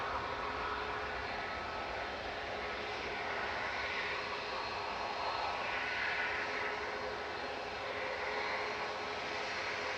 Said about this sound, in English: That was Ryanair 6816 to Milan